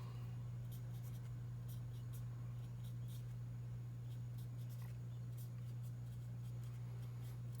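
A pen writes out a math step in short, faint scratching strokes that come in irregular bursts over a steady low electrical hum, with no talking.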